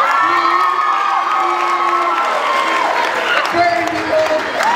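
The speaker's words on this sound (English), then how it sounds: "how about a round of applause for everybody backstage?" Loud cheering and shouting from a school Shakespeare Night audience honoring the backstage crew after a Macbeth performance, a steady crowd roar with voices rising above it.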